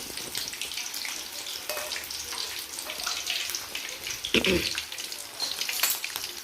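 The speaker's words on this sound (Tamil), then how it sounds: "இப்போ காடை ஃப்ரைக்கு எல்லாம் எடுத்து போட்டுருக்கோம்." Quail pieces fry over low heat in a pan, giving a steady close crackling sizzle with a brief stir-like rustle partway through and no talking.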